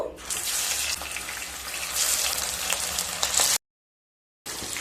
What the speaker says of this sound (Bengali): তেল গরম হয়ে গেলে মাছগুলো ভেজে নেব